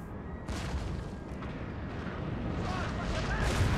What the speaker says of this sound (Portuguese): Os canhões estão tudo acertando essa região aqui,